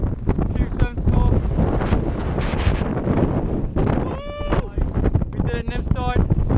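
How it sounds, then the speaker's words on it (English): Strong wind buffets the microphone in a constant heavy roar on the hilltop of Combestone Tor, with voices talking faintly through it. "Really windy."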